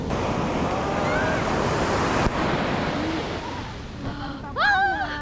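Strong ocean waves roll onto a beach at Dingalan, a continuous loud surf roar with wind buffeting the microphone, ending with a few distant voices or whistles.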